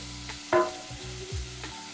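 Tomatoes cook in a pan at home, a soft sizzle with a few scraping stirs and clinks of a utensil against the pan, close and fairly quiet.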